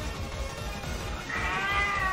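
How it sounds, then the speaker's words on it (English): A pet cat meows close by, a rising tonal call starting partway through and holding over a low background rumble. "And that's my cat."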